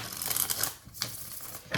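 Tarot cards shuffled by hand: a close, brief run of papery crinkles and soft slaps in a few short bursts, with no voice.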